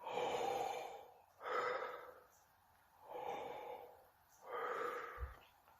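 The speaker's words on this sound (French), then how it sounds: "c'est une respiration qui est profonde. N'hésitez pas à ouvrir bien grand la bouche pour emmagasiner beaucoup d'air." Deep diaphragmatic breaths drawn through a wide-open mouth, heard as four long, close airy inhales and exhales in a slow, even rhythm, alone without talk.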